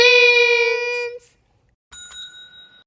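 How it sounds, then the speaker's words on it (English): A bright, ringing bell strike with a long sustained metallic tone that fades, followed after a short silence by a second, lighter ding, loud and close. "That's the bell."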